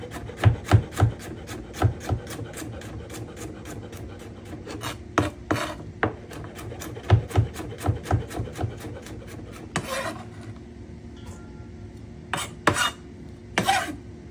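A knife slices thin cucumber rounds on a cutting board with quick, regular crisp taps, a run of close cuts interrupted by a few scraping strokes and short pauses.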